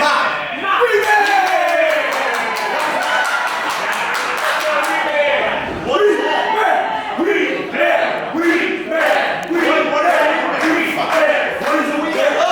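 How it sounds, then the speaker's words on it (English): A large arena crowd chants and cheers in a loud, sustained roar, with rhythmic claps and whoops rising and falling throughout. "Jack trying to turn this chant around."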